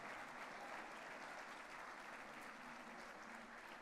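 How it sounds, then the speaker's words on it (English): Sustained audience applause fills a civic hall after the mayor's speech at the 2025 Edinburg State of the City event, steady and dense throughout with no break. "Let's give our mayor another wonderful round of applause."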